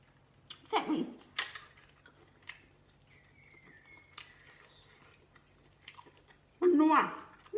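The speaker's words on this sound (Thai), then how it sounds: "เอาใส่ปากมาแล้วเป็นมันไข่กับน้ำซอสมันจะแตกในปาก ดังกรุบกรุบ" Close, crunchy chewing of a spicy Thai seafood salad with squid, shrimp and crab, with roe and sauce bursting in the mouth; two loud bursts near the start and end, with quiet and some talk between.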